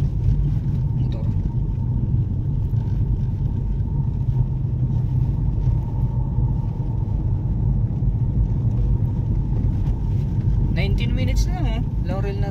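Steady motorcycle engine rumble during a ride around Laurel, Batangas overlooking Taal, a constant low drone with wind rush, and a rider's voice talking briefly toward the end.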